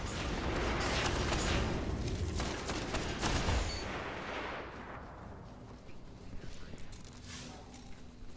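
Gunfire fills a Destiny Iron Banner match, dense bursts of weapon fire and explosions loud for the first half before thinning out into quieter sporadic shots and game ambience.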